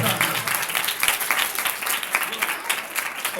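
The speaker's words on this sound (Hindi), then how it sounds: "फैमिली वास्ते जोरदार तालियां बजावांगे" Hearty crowd applause for a family at a gathering: rapid, dense clapping that holds steady throughout, with a voice faintly mixed in.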